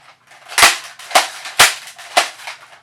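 A vintage Nerf blaster with a broken chain firing four sharp, close pops in a steady rhythm about half a second apart, each with a short airy tail, no voices.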